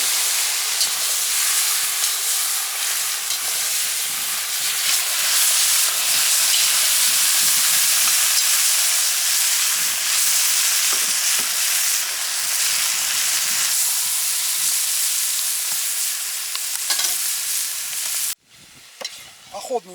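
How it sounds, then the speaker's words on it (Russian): Meat for plov frying in a cauldron over a strong fire outdoors on a fishing trip, a loud continuous sizzle and hiss that runs steadily with no talk, then cuts off abruptly near the end. "Для плова мясо должно на сильном огне жарить."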